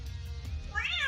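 A cat resting on a lap lets out one short, close meow near the end, over a low, steady background hum.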